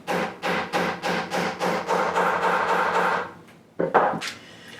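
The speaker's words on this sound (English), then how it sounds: "take your trusty hammer again and give it a few good taps" Repeated knocks of a hammer tapping a metal snap fastener, around eight, in a steady rhythm, close and fairly loud, then a sustained scraping stretch and two final taps.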